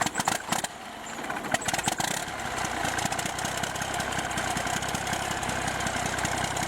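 Eagle Plus 7C heavy-duty diesel engine for commercial vehicles starting up with a few clattering bursts, then settling into a steady, loud, rumbling idle close by.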